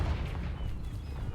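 A Confringo fire spell in Hogwarts Legacy blasts with a low, rumbling boom that fills the short moment at moderate loudness before fading slightly, with no voices.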